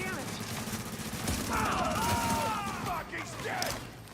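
Sustained rapid gunfire in the video game The Division, dense overlapping shots under someone talking, with in-game voice and electronic alert sounds layered through the fight.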